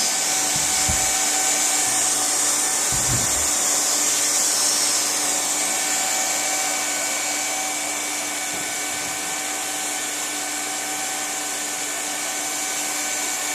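A hot air welding gun fuses the seam of a split boot, giving a steady, loud, airy blowing hiss that runs unbroken throughout, with a few faint low knocks early on.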